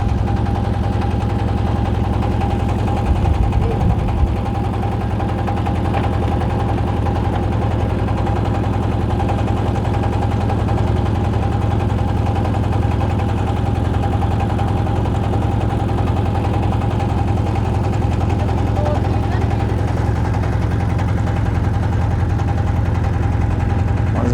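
A boat engine drones loud and close without a break on a river crossing at Patul, Natore, a steady low hum with no voices over it.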